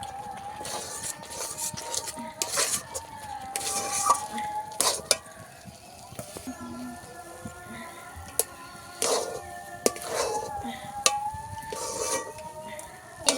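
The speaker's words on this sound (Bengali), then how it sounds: "এবার অল্প অল্প করে চালের গুঁড়ো দিয়ে দেব দেব আর এইভাবে একটু মিশিয়ে নেব" Rice flour being stirred into boiled water with a spoon, soft scraping and knocking strokes against the pot repeating irregularly at a quiet level.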